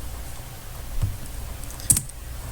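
JavaScript code being typed on a computer keyboard, a few soft, close key taps and clicks with one sharper keystroke near the end, no talking.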